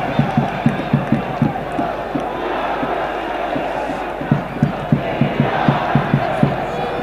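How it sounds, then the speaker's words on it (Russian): Saratov football fans in the fan zone cheer and chant during a Sokol versus Anzhi match, a loud crowd roar over rhythmic drum beats, with a commentator talking over the noise. "И радуются, ликуют саратовские болельщики"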